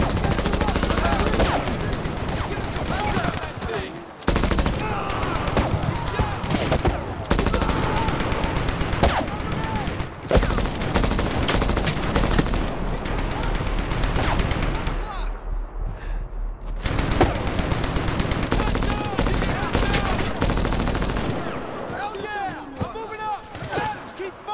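Intense gunfire from the shooter video game Medal of Honor (2010): dense rapid bursts and machine-gun fusillades, loud and nearly continuous, with shouted voices mixed into the battle.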